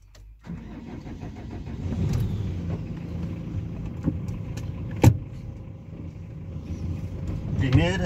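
Engine of a Hyundai HR / Kia Bongo truck running steadily while the manual gearbox is shifted through the gears, with clunks and a sharp knock as gears engage; third gear is reluctant to go in.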